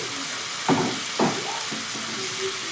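Cauliflower with a little water still in it frying in a pan, a low constant sizzle with a few spatula scrapes and stirs close by.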